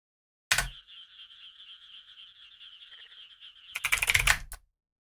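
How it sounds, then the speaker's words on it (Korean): Frog croaking in a sustained, buzzy trill lasting a few seconds, bracketed by louder bursts of noise at the start and end, with no talking. "개구리죠."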